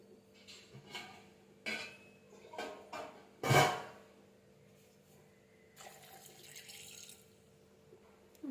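Water pours into a mixer jar of dosa batter seasoned with chili powder, a short bright splash near the middle among a few quieter clinks and kitchen handling sounds, close and fairly faint.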